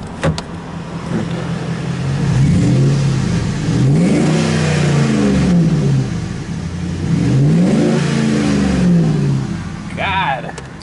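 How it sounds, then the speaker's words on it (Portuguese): A 4.7-litre V8 in a Dodge Ram 1500 4x4 pickup revs loudly and close by, climbing and falling in repeated sweeps over a steady rumble, with brief talk and a short whine near the end. "Vou escutar o barulho desse motorzão"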